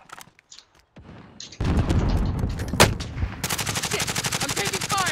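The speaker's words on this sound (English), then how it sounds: "Shit, I'm taking fire!" Gunfire in a first-person shooter video game: heavy booming shots build into dense overlapping fire, ending in a fast, regular burst of automatic rounds, loud and close with no speech.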